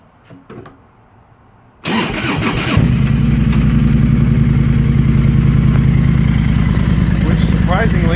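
Triumph Thunderbird motorcycle engine with the exhaust pipes removed cranks and fires after a couple of quiet clicks, then settles into a loud, steady, rumbling idle close by.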